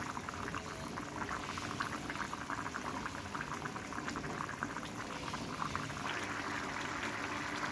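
Potato curry simmers under a lid in a pot, giving a soft, steady bubbling and burbling that is faint and continuous throughout, with no voices.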